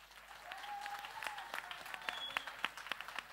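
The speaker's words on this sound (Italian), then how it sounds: "Un grande applauso a lui." Audience applause at a middle-school show, greeting a poem written by a student, a steady wash of clapping lasting several seconds with a faint tone and sparse sounds mixed in.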